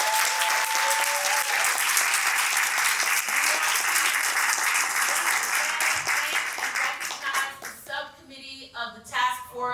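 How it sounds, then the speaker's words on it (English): An audience at an arts leadership learning-day event gives sustained applause that holds dense and even for about eight seconds, then thins into a few scattered claps and voices. "Give yourselves a round of applause."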